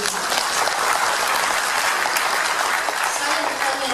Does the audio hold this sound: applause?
yes